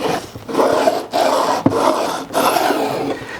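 A beveling tool slides across the ends of guitar frets at a 45-degree angle, making loud close rasping strokes in four rhythmic passes separated by short pauses.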